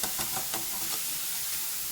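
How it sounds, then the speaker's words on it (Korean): Onions and meat stir-frying in a wok over high heat, a loud, dense continuous sizzle with a few scraping stir strokes near the start, close and with no voices. "자, 양파 넣어서 볶아줍니다."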